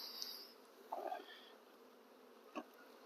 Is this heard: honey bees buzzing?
yes